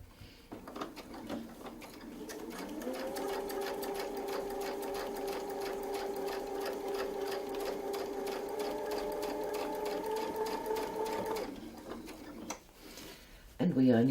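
Sewing machine stitches continuously with a steady, even mechanical whir on a Westalee Design Mini Spin-e-fex ruler setup, running at slightly raised speed for about nine seconds before stopping, with a clunk at the end.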